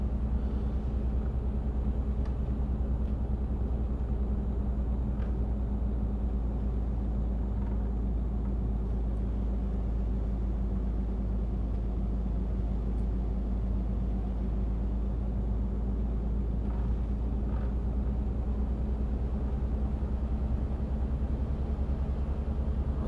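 A heavy truck engine in Euro Truck Simulator drones at full throttle, a steady low rumble holding loud and continuous throughout with no talk over it.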